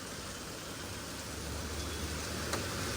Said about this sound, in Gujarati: વરસાદ આવે છે, આવે છે